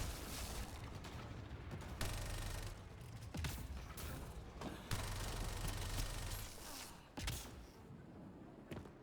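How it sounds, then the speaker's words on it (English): Gunfire and heavy weapon blasts in Mass Effect Andromeda multiplayer combat, sustained rapid shots with repeated loud booming impacts over about nine seconds, close and dense, with no talking. "They're shooting!"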